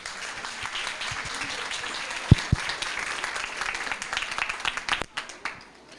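A lecture audience at a medical emergencies symposium claps for the speaker, a moderate stretch of scattered handclaps with a few sharp close claps, fading near the end as talking begins.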